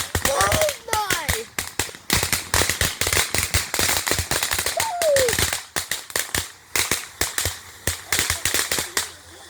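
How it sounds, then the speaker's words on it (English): Fourth of July fireworks bursting overhead in a rapid, dense string of sharp bangs and crackles, loud and continuous throughout, with a few excited voices and whistling squeals rising between the blasts. "A lot of fireworks in the sky."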